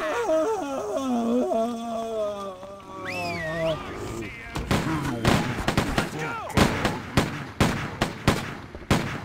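Gunfire in the zombie action game Stubbs the Zombie, a run of sharp, loud shots in uneven bursts after character voices and vocal effects in the game.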